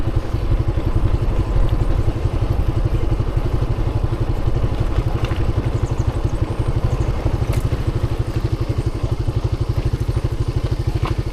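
A motorcycle engine runs steadily at close range on a forest trail near a waterfall, its rapid, even low throb continuing with light clatter and no talk.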